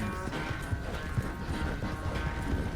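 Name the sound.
horse galloping in a video game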